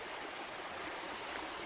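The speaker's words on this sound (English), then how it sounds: "There's a stream where we're going to get some water." A fast-flowing stream rushes steadily nearby in a broadband, hissing wash of moving water, soft in level and without any voices.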